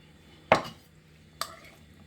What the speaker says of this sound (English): I am just going to add my pasta to this